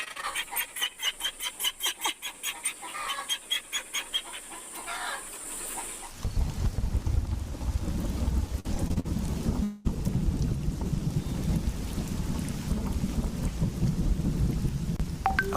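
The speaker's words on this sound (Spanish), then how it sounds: "Comenzó a llover." Heavy rain and rolling thunder from an April 2016 downpour in a film teaser, first with rhythmic pulsing sounds and a high steady tone, then a loud, dense wash of rain and storm rumble with a brief dropout.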